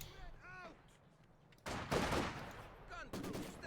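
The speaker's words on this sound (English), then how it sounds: "machine gun and mortar in the center here" Machine gun and mortar fire in the Company of Heroes 2 strategy game: a faint voice speaks quietly at first, then loud, rapid bursts of gunfire rattle on and off until the end.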